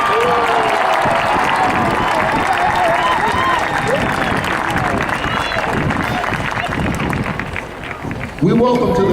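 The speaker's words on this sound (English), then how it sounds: "Give them a round of applause." A crowd claps and cheers for the feature twirlers at a high school marching band festival on an open field. The applause rumbles steadily under a loud announcer's voice, with some wind buffeting the microphone.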